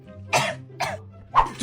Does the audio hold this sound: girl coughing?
yes